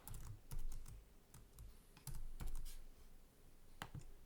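Keys clatter on a computer keyboard as a code is typed in, an irregular run of close, crisp clicks coming in short bursts with brief pauses between them, and no voice.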